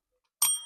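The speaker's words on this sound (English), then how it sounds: "And ring the bell." A single bell is struck once and rings out clear and bright, its tone lingering and slowly fading after a sharp onset, heard alone without any talking.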